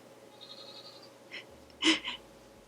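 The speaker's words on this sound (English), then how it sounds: "my baby goat's out there. I don't know if you guys can hear him." A young goat bleats once or twice from a short distance outside a door, brief high cries over a quiet background hum.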